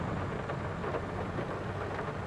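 Heavy rain in the farming game Farming Simulator 22, a steady dense hiss of downpour with a low rumbling undertone, constant and unbroken, with no voices.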